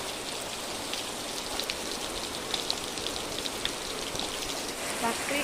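Heavy rain pours steadily, a dense hiss with scattered louder drops pattering nearby, continuous and fairly loud throughout.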